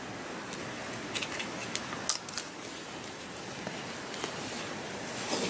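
Scissors snip through a long tail of Lion Brand yarn on a crocheted pumpkin, giving a few sharp, close cuts in quick succession around the middle over quiet room noise.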